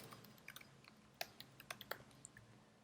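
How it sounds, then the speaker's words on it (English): Fingers type on a computer keyboard, giving scattered, quiet clicks in irregular short bursts with no talking. "If we start typing"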